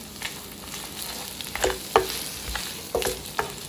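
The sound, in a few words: sautéing onions and cashews in a pan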